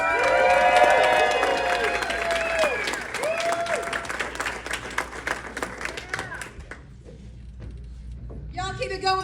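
Stand-up comedy audience applauding as a comedian is welcomed to the stage, loud dense clapping with a few cheers at first that thins out and fades, followed by a voice speaking at the end.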